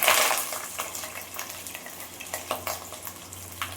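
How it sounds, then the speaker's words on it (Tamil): Onions frying in hot oil in a pan, a steady close sizzle with quick light stirring clicks and scrapes running through it, louder at the very start, no voices. "வெங்காயம் நல்லா வதங்கட்டும் வெங்காயம் நல்லா வந்து கோல்டன் ப்ரௌன் ஆகிற வரைக்கும் நல்லா வதங்கணும்"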